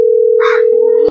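A steady telephone tone hums on one pitch for about a second, then cuts off with a click, with brief faint background noise.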